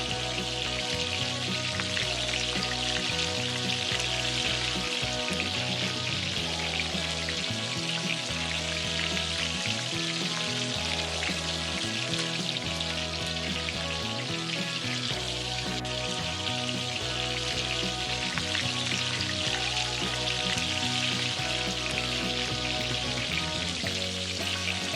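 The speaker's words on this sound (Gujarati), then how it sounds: "તો હવે લાસ્ટ સ્ટેપમાં કચોરીઓને ધીમા તાપે આપણે ડીપ ફ્રાય કરી લેવાની છે" Tuvar kachori deep-fry in oil on low heat with a continuous, even sizzle and bubbling crackle, steady and close throughout with no voices.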